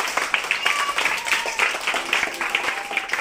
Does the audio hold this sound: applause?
yes